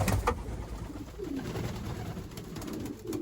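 Pigeons coo in a continuous low murmur at a farm bird enclosure during a cold snap, soft rolling calls overlapping steadily at moderate distance with no talking.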